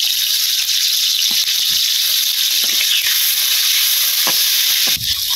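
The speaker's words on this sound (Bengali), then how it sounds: "পেঁয়াজ রসুন ভাজা হয়ে গেছে" Onion and garlic fry loudly in a pan for a village-style small fish curry, a dense continuous hiss and sizzle close up with scattered clinks of stirring throughout.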